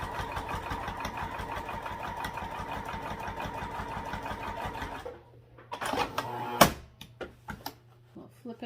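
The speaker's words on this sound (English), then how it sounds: "We'll flip it around and top stitch the other side as well." A sewing machine top stitches a wallet, running in a steady, rapid needle rhythm for about five seconds before stopping, followed by a few short clicks and handling noises.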